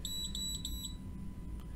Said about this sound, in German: und wenn diese erreicht wird, dann sollte das Gerät dann jetzt gleich piepsen